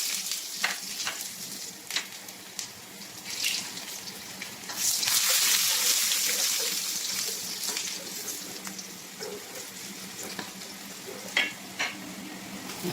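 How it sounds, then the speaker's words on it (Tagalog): Ginger with ginger powder and black pepper sizzling in hot olive oil, a steady frying hiss with a louder surge as it is stirred, plus scattered clicks of the utensil against the pan. "Ang ating ginger powder, black pepper powder, at ang ating olive oil, ating panggigisa."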